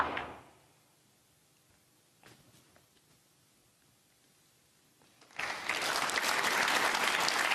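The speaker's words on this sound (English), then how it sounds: "applause for good position on the yellow" Snooker audience at a Northern Ireland Open semifinal breaks into sustained applause after a quiet spell at the table, the clapping swelling loudly and continuing to the end.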